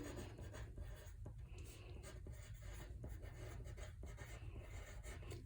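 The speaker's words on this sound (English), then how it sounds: "So I'm going to write my name." A pencil writes on paper in a steady, close scratching, rough and continuous with small stroke accents, quiet and with no voices.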